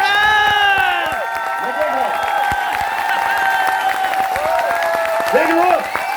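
An audience at a training seminar claps and cheers in a steady, sustained roar of applause and whoops, while a voice talks loudly over the crowd throughout.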